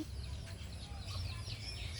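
Soft, faint clucking from junglefowl against a steady outdoor hum, a few low calls spread across a short stretch.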